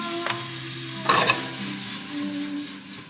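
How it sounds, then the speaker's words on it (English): Minced onion and garlic hit a pan already slick with oil, giving a sharp sizzle that flares and then settles into a steady frying hiss with a few light scraping stirs. "And here comes the minced onion and garlic. The same pan."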